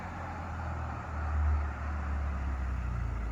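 A lowered Scion tC on lowering springs rolls up a driveway, its low engine rumble swelling slightly midway and then settling into a steady drone at moderate distance.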